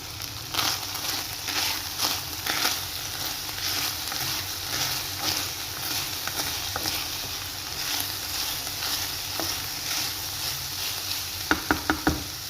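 Dry-fried minced meat cooked without oil or fat is turned in a pan over a continuous sizzle, with scraping stir strokes and a few sharp knocks near the end, no voices.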